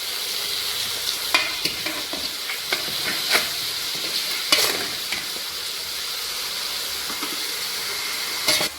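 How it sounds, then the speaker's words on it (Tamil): Chicken for a pepper fry sizzles steadily in a hot pan, a dense loud hiss broken by sharp spatters and occasional clanks of stirring, with no voices. "இப்போ நான் வந்துட்டு நம்மளோட பெப்பர் ஃப்ரைக்கு வந்து சிக்கன் எடுத்து போட போகிறேன்"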